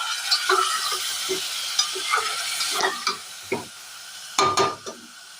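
Pepper-garlic paste sizzles and fries in a pan for a chicken stew, with repeated scraping stirs and a louder clatter of the spoon near the end, close and steady with no talking.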